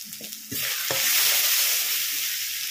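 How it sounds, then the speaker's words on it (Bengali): Spices for a crab curry frying and stirred in a pan: a loud, dense sizzle swells after a few scrapes and holds steady, close, with no talk. "সব মশলাগুলো খুব সুন্দরভাবে কষিয়ে নেব।"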